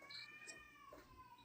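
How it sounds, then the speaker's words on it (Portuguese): Cats yowling and caterwauling in a fight, drawn-out wavering cries, faint and distant. "Os gatos bravíssimos."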